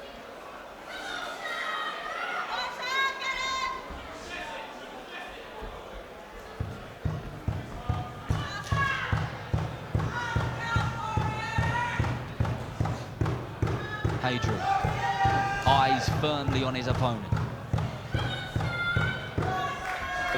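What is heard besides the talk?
drum played by crowd at boxing match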